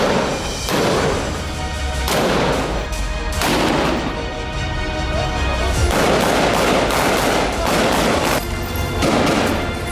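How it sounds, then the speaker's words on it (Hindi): Heavy bombardment and gunfire in Gaza from the Israeli army: repeated loud booming blasts and crackling shots roll one after another without pause, dense and sustained through the whole stretch. "इजरायली सेना की बमबारी से जर्रा जर्रा दहल रहा है"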